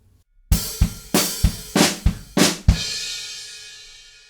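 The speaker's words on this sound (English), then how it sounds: "there's another fill, and we're going to go straight into the chorus." Drum fill leading into the chorus of a song, played on a kit. About seven hard, close hits come in quick succession after a short silence, and a crash cymbal rings out at the end.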